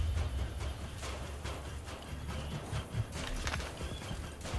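Horse hooves clip-clop at a walking pace in the video game Assassin's Creed Brotherhood, a steady run of soft thuds mixed into busy ambient game noise.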